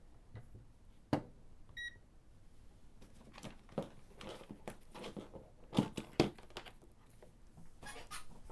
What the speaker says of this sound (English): it's going to beep whenever we detect continuity